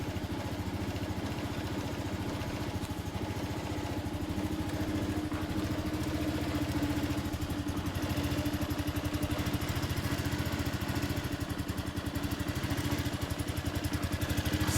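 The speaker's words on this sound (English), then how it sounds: "Just gonna let it idle for a couple minutes." A carbureted Honda Big Ruckus scooter idles steadily and alone, its small engine putting out a low, even putter with faint clatter at moderate closeness throughout.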